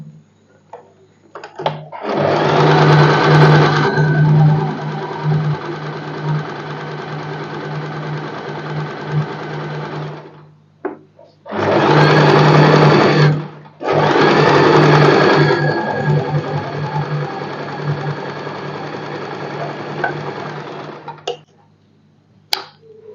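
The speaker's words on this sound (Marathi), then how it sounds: "मेन फॅब्रिकला पण आपल्याला डबल स्टिच करून घ्यायचंय" Sewing machine double-stitching the main fabric of a padded princess-cut blouse, running in three steady bursts of loud continuous whirring with short pauses between, close by with no talk.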